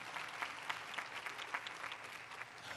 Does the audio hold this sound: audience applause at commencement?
yes